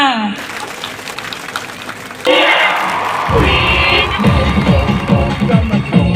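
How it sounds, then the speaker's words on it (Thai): Loud applause from a crowd swells in and continues steadily, with cheering and scattered voices mixed throughout, for a kindergarten performance team at a school sports day. "ขอเสียงปรบมือดังๆให้กับทีมนักแสดงด้วยค่ะ"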